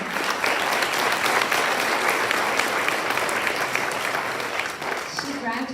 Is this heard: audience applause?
yes